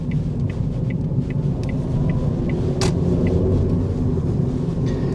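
Car on a test drive, a steady low road and engine rumble heard from inside the cabin, with faint ticking and one brief sharp click over the constant drone.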